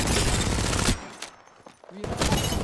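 A Triple Take rifle fired from the hip in Apex Legends: loud, dense bursts of gunfire that drop away briefly in the middle, then resume at full strength.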